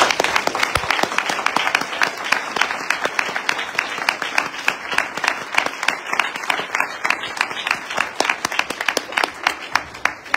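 A church congregation claps and cheers for the Lord at a Mount Zion gathering, with steady, dense applause from a large crowd filling the room throughout, loud and close.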